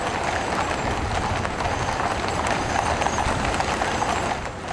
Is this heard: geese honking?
no